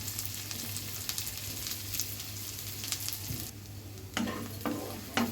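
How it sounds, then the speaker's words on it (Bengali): Chopped onion and chili frying in oil with cardamom and cinnamon, a soft steady sizzle with a few stirring scrapes, dropping quieter midway before a couple of sharper clinks near the end. "মরিচ পেঁয়াজ একটু ব্রাউন করে ভেজে নিব"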